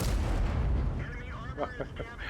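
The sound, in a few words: tank cannon shot in the video game World of Tanks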